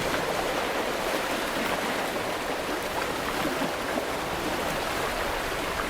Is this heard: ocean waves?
yes